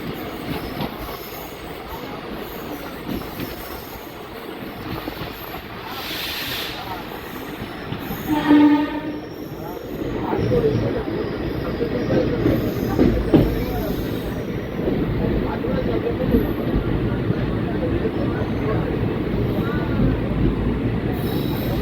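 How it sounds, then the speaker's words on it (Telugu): Tungabhadra Express pulling into Mahbubnagar railway station, a steady rumble of wheels and carriages with a brief horn or squeal near the middle, continuing loud and close to the end. "మన తుంగభద్ర ఎక్స్ప్రెస్ రైలు మహబూబ్ నగర్ రైల్వే స్టేషన్కి అయితే చేరుకుందండి"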